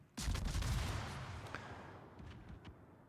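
A heavy naval gun salvo in the World of Warships game booms once loudly with a deep blast, then rolls and rumbles away over a few seconds, with faint cracks trailing off.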